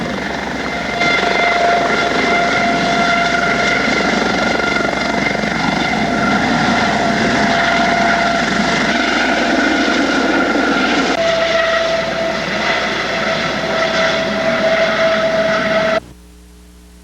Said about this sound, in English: Here you see one of the Medevac helicopters taking off from Elko Ball Field.